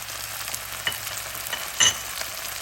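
Onions, tomato and green masala sizzle steadily in a karahi for dhaba-style masala bhindi. A brief stirring clink rises partway through the constant close frying hiss, with no voices.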